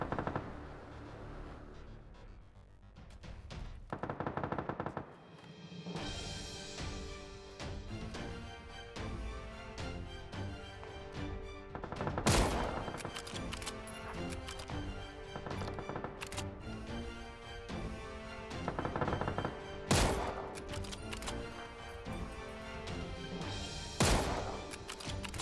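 Gunfire from a PUBG match, with armoured vehicle fighting nearby: sharp shots and bursts burst out repeatedly over a dense, continuous backdrop of game noise and music, several louder blasts standing out.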